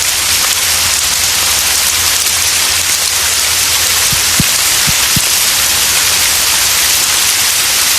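Heavy storm rain, a dense and loud hiss of constant downpour with a low rumble underneath and a few brief knocks partway through.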